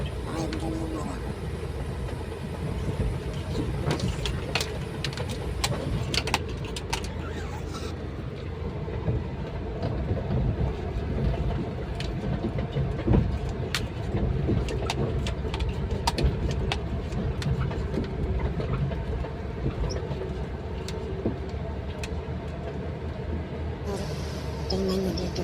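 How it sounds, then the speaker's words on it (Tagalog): Constant low engine rumble inside a moving vehicle, with repeated sharp clacks and rattles scattered throughout, loud and close. "May kakalampag na rito sa sasakyan namin."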